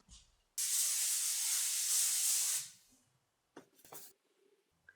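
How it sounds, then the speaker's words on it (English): Joico texturizing hair spray hisses from an aerosol can in one steady, close burst of about two seconds, followed by a few soft rustles as the hair is shaken out. "I am also going to take a texturizing spray. This one is by Joico"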